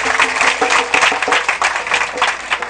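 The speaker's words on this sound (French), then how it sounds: "Je vous prie de l'applaudir" Audience applause at a school inauguration ceremony in Sinthiou Keïta, honoring an association's president: loud, dense clapping from a gathered crowd, close and continuous, with some voices mixed in.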